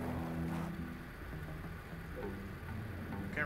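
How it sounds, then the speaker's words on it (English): A car engine in the Bully video game holds a low, steady drone with faint tonal hum that stays quiet and constant throughout. "Can't really hear it because of the car engine"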